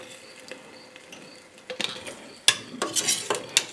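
Blanched plums are spooned into hot sterilized jars for pickling, with scattered clinks of utensil on glass and soft wet thuds building into a cluster of sharper knocks near the end.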